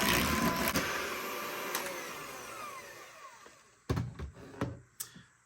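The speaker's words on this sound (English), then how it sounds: "you're going to want to mix this for about 5 minutes just so that it's light and fluffy" An electric mixer whirs loudly through peanut butter chocolate chip cookie dough, its steady drone fading out around the three-second mark, followed by a few sharp knocks and thuds.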